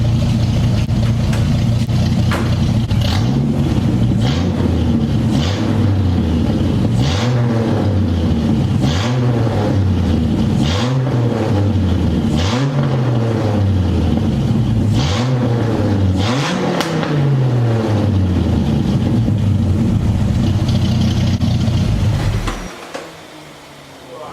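Car engine revved repeatedly from the cabin, loud and close, with a series of rising and falling rev sweeps over a constant idle before the engine cuts off near the end.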